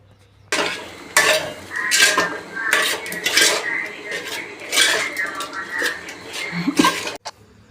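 Potatoes and peas are mixed into masala in a metal pot, loud repeated scraping and clanking of a spoon against the pot in quick bursts, close and busy.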